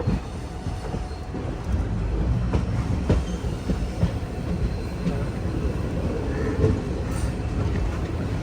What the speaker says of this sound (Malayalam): പുനലൂർ റെയിൽവേ സ്റ്റേഷനിലേക്ക് ഇതാ നമ്മുടെ ട്രെയിൻ എത്തിക്കൊണ്ടിരിക്കുകയാണ്.